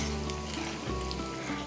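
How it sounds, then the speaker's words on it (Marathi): Corn fritters (makyache bhaji) fry in hot oil with a constant, close, crackling sizzle like light rain, steady and even throughout with a low hum underneath. "चला आता हे दोनही बाजूने छान असे खरपूस सोनेरी होईपर्यंत तळून घ्यायचं"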